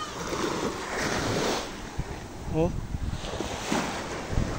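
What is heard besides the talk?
ocean waves on beach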